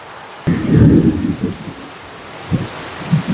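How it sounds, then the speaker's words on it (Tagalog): Heavy rain pours on a farm while strong gusts of wind buffet and roar in bursts, with a deep rumble swelling near the start. "nyo yung ulan na yan, no? May kasamang hangin"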